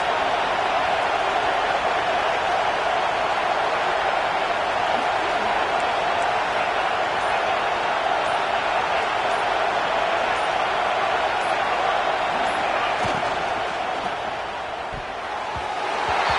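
A football stadium crowd keeps up a constant, dense roar that holds steady and then dips slightly near the end, with a commentator talking over it.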